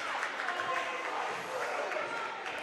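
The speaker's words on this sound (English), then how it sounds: "Crowd getting into it." Crowd cheering and applauding at a WIAA high school girls basketball game, Cashton vs New Lisbon: a dense, steady roar of many voices and clapping that holds throughout, with a commentator's voice blended in.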